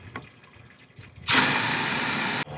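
An RV black tank being flushed and drained, water bursting on suddenly after faint background noise and rushing steadily and loudly for about a second before cutting off abruptly.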